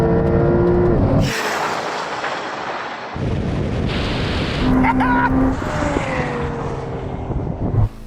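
A McLaren 765LT or Porsche 911 Turbo S sports car passes during a standing quarter-mile drag race, its loud engine roar rising as it approaches, then sweeping past and fading, heard close and without talk.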